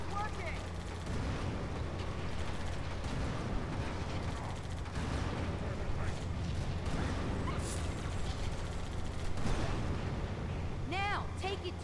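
Gunshots in the video game Halo 2 pop repeatedly under a steady bed of game noise, with mechanical clatter and a few rising electronic chirps near the end. The whole scene is fairly quiet.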